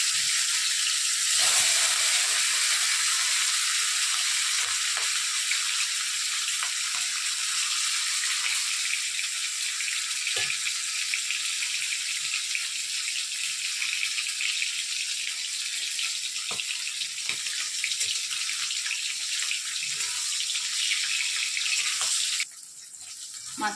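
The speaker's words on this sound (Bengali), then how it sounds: "তেলটা গরম হয়ে গেছে, এবার আমি মাছগুলো একে একে ছেড়ে দিচ্ছি।" Rohu fish pieces frying in hot oil, a loud, steady, close hiss and sizzle that continues unbroken with faint pops, easing slightly at the end.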